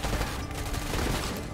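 Dense, continuous gunfire from a Call of Duty Black Ops 6 match, with shotgun blasts in the mix, forms a loud unbroken barrage of overlapping shots with no clear gaps.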